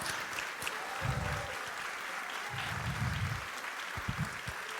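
Church congregation applauding during a Brazilian sermon on worship, sustained clapping across the room with low rumbling bursts, steady and moderately loud throughout.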